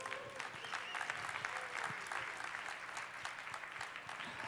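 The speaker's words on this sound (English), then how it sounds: "Round of applause for Stephen." An audience at the World Barista Championship in Seattle applauds for a former champion, a lively patter of many hands clapping steadily, moderately close, with a faint voice underneath.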